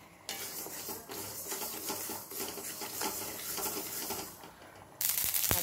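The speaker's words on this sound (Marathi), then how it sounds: "त्यानंतर जवस भाजायचे आहेत, ते पण तिळाप्रमाणेच भाजायचे आहेत" Flax seeds dry-roasting in a pan and stirred with a utensil give a steady close scraping and gritty rattle that runs throughout, growing louder in the final half-second.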